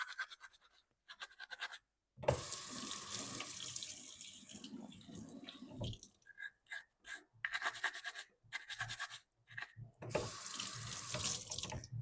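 Warm tap water runs into a sink while a paint brush is rinsed under it, the splashing stream cutting on and off in several bursts with short silent gaps.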